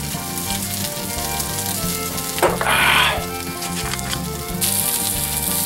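Kielbasa sizzles steadily in a small skillet, with a brief louder burst of frying as the pieces are stirred, all under background music.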